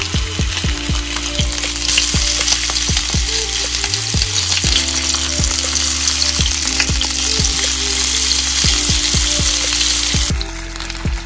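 Ling fish fillets fry in a very hot pan, a loud steady sizzle with crackling pops running throughout and easing slightly at the end.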